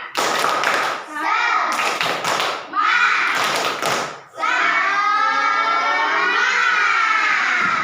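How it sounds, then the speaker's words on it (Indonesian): A class of children does 'tepuk semangat', a rhythmic spirit clap in bursts of patterned hand taps and thumps, broken by short pauses, with children's voices chanting along throughout. "Kalau begitu, tepuk semangat dulu."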